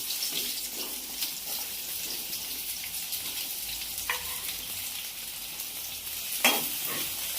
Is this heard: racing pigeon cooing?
no